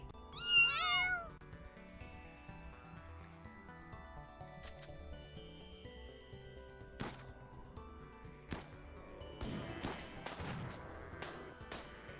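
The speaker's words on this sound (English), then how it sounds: "It's our kitty." A pet cat gives one short, clear meow near the start, followed by quiet room sounds, soft clicks and a few sharp knocks.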